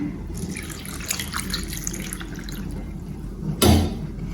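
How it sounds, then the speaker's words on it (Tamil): Water is poured into a pot of Jaffna-style fish sothi with mango and fenugreek, a steady splashing trickle that runs for several seconds and ends in a louder, heavier splash near the close. "தண்ணி சேர்க்கிறேன்"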